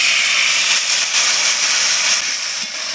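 A little water hits a hot pan of ginger paste, green chilli, and ground coriander and cumin paste. A loud, steady, hissing sizzle continues throughout.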